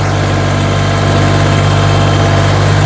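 A YTO 244 SX tractor engine labors while plowing virgin ground in low third gear at about 2000 rpm, a loud, constant, heavy droning hum with strong low vibration and no voices.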